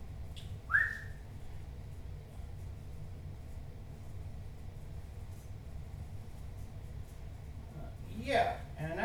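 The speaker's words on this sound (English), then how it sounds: "Did you just whistle to call me?" A person whistles once sharply to call someone, a quick rising note near the start, then a quiet stretch and a second whistle-like burst near the end, with faint room noise between.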